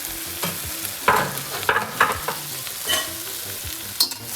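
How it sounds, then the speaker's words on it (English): Onions, tomatoes and serrano peppers frying in a pan, loud close sizzling broken by repeated scraping stirs at an irregular rhythm, with no voices. "So we cook the onions, the tomatoes, and the serrano peppers here."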